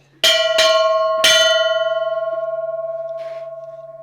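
A small bell is struck three times in quick, close succession, its bright metallic tone ringing on and slowly decaying for several seconds, with a faint brief noise near the end.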